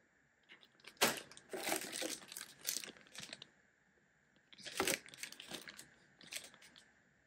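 A plastic bag holding ball bearings and oil is crinkled and shaken up close in two bursts of rustling and clicking, separated by a short quiet pause.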